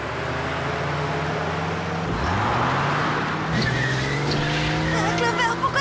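Out-of-control cartoon car speeding with tires skidding and squealing, a loud continuous engine roar with shifting screeches, alongside a steady musical drone throughout.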